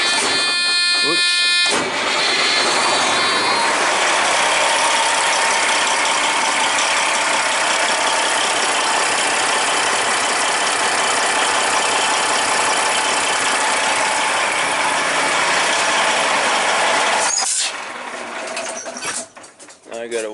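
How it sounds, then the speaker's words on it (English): A Detroit Series 60 diesel truck engine with a pinhole leak in its fuel line runs steadily at close range, a loud continuous mechanical drone with clattering that cuts off sharply near the end, followed by a few brief knocks. "Let me start the motor up and show you that pinhole."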